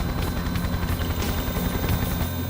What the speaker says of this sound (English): They and the police helicopter India 99 are no closer to finding the fugitives, but Kelly does have a sniff of something.